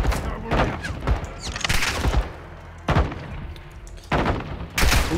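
AK rifle fire in Call of Duty Modern Warfare II: several loud, sharp bursts of automatic gunfire in quick clusters, separated by short gaps, with players' voices talking between them.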